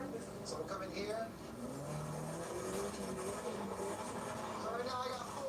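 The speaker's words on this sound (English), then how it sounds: "So right now I got full throttle going the whole time." Car engine held at full throttle while the car spins donuts in a driving video game, a steady, consistent engine roar running continuously throughout, with a person talking over it.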